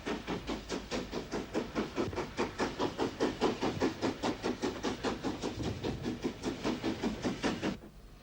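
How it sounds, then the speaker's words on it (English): GNR S-Class steam locomotive No. 171 Slieve Gullion hauls a passenger train north from Warrenpoint toward Belfast, giving rapid, evenly spaced exhaust chuffs at close range that run steadily before cutting off abruptly near the end. "S-Class number 171 Slieve Gullion in GNR livery heads north with the 6:40 train from Warrenpoint to Belfast"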